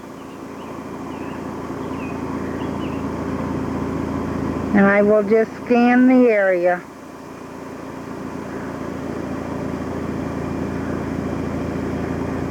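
A parked car idles with its air conditioner running on a hot, humid day, giving a steady engine-and-fan hum throughout. A person speaks briefly over it partway through.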